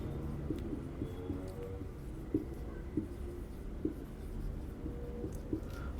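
A teacher writes on the board during a school physics lecture on force, making light scratchy strokes and small taps in an irregular rhythm, close and fairly quiet, with no talking.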